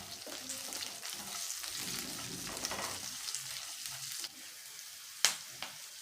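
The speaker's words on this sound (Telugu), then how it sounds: "వేసి ఫ్రై చేసుకోవాలి" Ingredients for ivy gourd chutney fry and get stirred in a pan, a dense close sizzle with scraping that drops off sharply partway through, followed by a couple of sharp utensil knocks.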